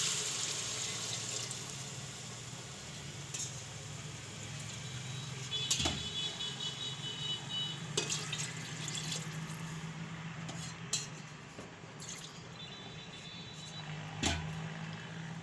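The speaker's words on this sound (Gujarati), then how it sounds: "ત્રણ વાટકા પાણી નાખશું આમાં" Three bowls of water go into a pressure cooker holding salted rice and whole moong for khichdi: a soft running pour with scattered drips and a few sharp metallic clinks, fairly quiet and close.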